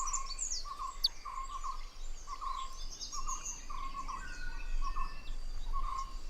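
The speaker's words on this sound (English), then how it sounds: "There is a constant calling going on, with the parents and the chicks exchanging contact calls to keep track of each other." Dwarf kingfisher parents and chicks trade contact calls outdoors, a repeating series of thin, high peeps and chirps that come at irregular intervals, fairly faint over a steady background of insects.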